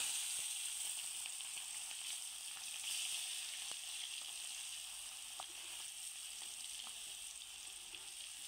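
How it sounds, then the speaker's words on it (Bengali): Raw tomato frying in oil in a pan, a continuous hissing sizzle with faint crackles and pops throughout, fairly quiet and with no voices. "এখন কাঁচা টমেটোটা একটু তেলে ভেজে নেব।"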